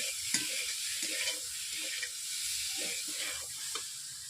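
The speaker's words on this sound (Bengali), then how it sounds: "ফুলকপি আলুকে এইভাবে আমি 5 মিনিট কষিয়ে নেব।" Steamed cauliflower and potato with spices frying in a kadai, a continuous sizzling hiss broken by light stirring scrapes.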